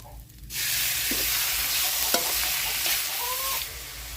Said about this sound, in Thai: ถ้าพริกแกงหอมๆแล้วก็ ตามด้วยเนื้อปลาไหลครับผม